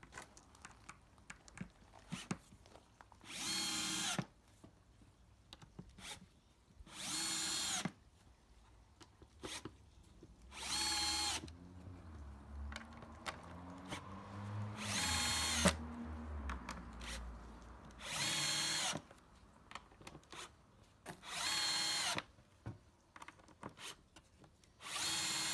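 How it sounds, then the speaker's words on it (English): Repeated bursts of a power drill driving screws into wood, each whirring run lasting a second or two with short pauses and light handling noises between. "let's run through and drill all these screws down"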